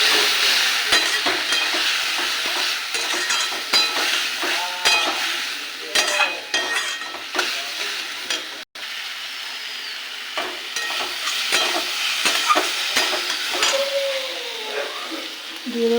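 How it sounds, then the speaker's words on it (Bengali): Ground turmeric, salt, cumin, coriander and chili powder fry in a pan for a mixed-lentil fritter curry, a steady sizzle under repeated scraping and clinking strokes of a spatula against the pan, close and fairly loud, with no talking. "আর দেবো গুঁড়ো মশলা, হলুদ, লবণ, জিরে গুঁড়ো, ধনে গুঁড়ো আর লঙ্কা গুঁড়ো। এটাকে কষিয়ে নেব।"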